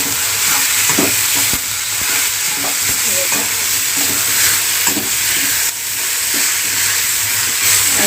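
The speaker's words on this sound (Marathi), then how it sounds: "यामध्ये आता आपण घालूया टॅमॅटो त्यालाही चांगला आपण तेलामध्ये फ्राय करून घेऊया" Tomatoes fry in hot oil over browned onions, giving a steady loud sizzle with stirring scrapes running throughout.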